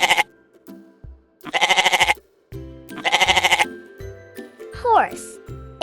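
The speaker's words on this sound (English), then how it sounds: "G-O-A-T. Goat." A goat gives two loud, wavering bleats, each about half a second long, separated by gaps, over a light backing melody with a brief squeaky sound near the end.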